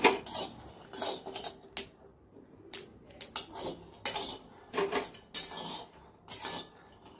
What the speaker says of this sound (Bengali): চিড়াটাকে চিনি আর লবণ দিয়ে ভালো করে মাখানো হচ্ছে।